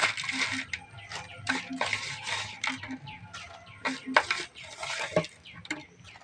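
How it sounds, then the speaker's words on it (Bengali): Lay's potato chips crushed by hand into crumbs, giving bursts of crisp crackling and rustling that come and go close up, with faint clinks in the background. "লেসগুলি ঢেলে নেবো, ঢেলে হাত দিয়ে গুঁড়া করে নেবো"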